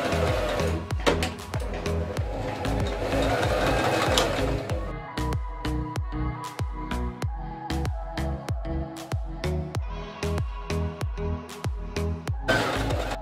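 A sewing machine runs a straight stitch through throw pillow fabric in steady bursts of rapid needle clatter. It sews continuously for the first few seconds, then stops and starts in short runs, close and clear, with no talk.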